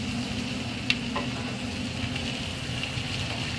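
Onions and fresh garlic sauté in fat in a pan, producing a steady close sizzle with a faint low hum beneath and one small clink.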